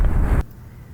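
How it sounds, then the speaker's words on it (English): A power line fuse blows with a loud, sharp kapow during an EF-0 tornado in Huntersville, North Carolina, a single close burst that cuts off abruptly, leaving faint wind rumble behind. "That's the sound of the power line fuse blowing."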